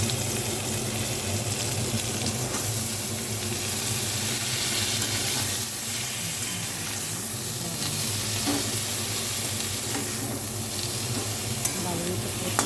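Pea greens fry in a pan with a steady, close sizzle and occasional stirring scrapes, continuous and fairly loud from start to finish.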